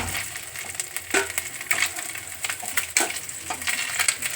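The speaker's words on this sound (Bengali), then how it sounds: "মাছটা একটু ভেজে নিই কেননা কাঁচা এরা খেতে চায় না" Small chunopunti fish frying in a pan, a continuous close sizzle broken by repeated spatula scrapes and taps at an irregular rhythm.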